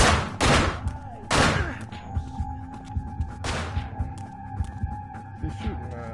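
Gunfire in the video game Manhunt: two or three loud, sharp broadband bursts near the start, then a later one, over a steady game hum with soft tonal ambience and some low-level chatter.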